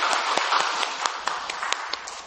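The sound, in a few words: congregation applauding in church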